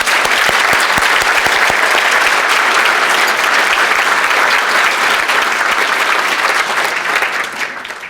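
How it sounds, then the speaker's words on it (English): Sustained loud applause from a large audience at a St. Paul Police awards ceremony, steady clapping throughout that tapers slightly at the end. "Let's give everybody a round of applause."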